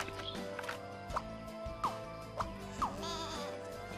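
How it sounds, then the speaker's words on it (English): A cartoonish goat bleats several times in the video game Scribblenauts Unlimited, short wavering calls repeated about every half second to a second over a constant backdrop of game music. "A stupid goat."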